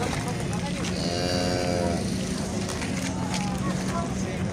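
Cattle at a livestock market give a long, drawn-out moo that rises clearly over wind and open-air background noise, with people talking nearby.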